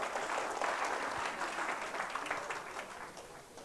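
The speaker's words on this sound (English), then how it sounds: "will you give Team C a big clap?" An audience at a UNICEF Urdu journalism quiz applauds a team, a broad wash of many hands clapping that holds steady and then slowly fades, with no talking over it.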